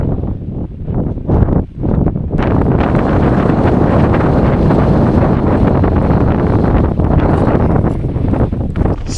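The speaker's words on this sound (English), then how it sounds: "Super windy now, I hope you can hear me." Strong wind buffeting the microphone on a mountain top, a loud continuous roaring rush with gusts swelling and easing, heavy low rumble throughout, no speech.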